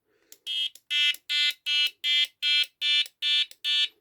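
A Prologic 4+1 carp fishing bite alarm beeps nine times in a quick, regular rhythm, loud, shrill electronic tones heard up close with no voices.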